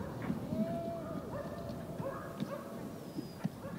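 Sled dogs at a remote bivouac camp before their meal, heard as scattered barks and whimpers over a steady outdoor background, with a few louder yelps near the end.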